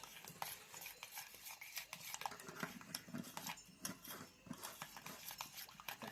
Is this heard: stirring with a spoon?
yes